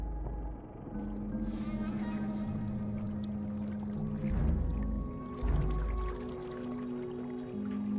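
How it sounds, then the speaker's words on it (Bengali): Wooden oars stroke through river water as a small boat is rowed fast at night in an animated horror story, giving soft watery splashes and swishes over a steady droning background. "মাঝি দ্রুত গতিতে দাঁড় টানতে শুরু করলো।"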